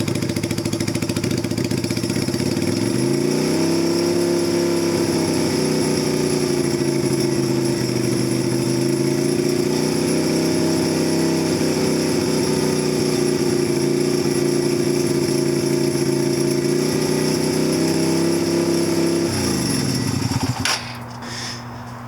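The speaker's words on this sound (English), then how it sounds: "you can hear the revs going up and down" A Yamaha Virago 250 (XV250) motorcycle engine idling steadily while its revs drift up and down, droning continuously before cutting out near the end.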